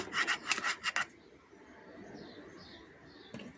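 A homemade sun cream mixture is stirred in a bowl, a short burst of brisk scraping strokes lasting about a second, followed by quiet room tone with faint distant bird calls.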